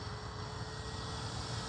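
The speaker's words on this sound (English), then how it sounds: "This is one great flying plane." A radio-controlled model airplane flying, powered by a Lemon RX Gen 2 setup, gives a steady, continuous engine drone at moderate distance with no talk over it.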